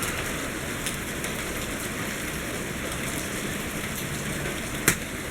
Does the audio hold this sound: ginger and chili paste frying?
no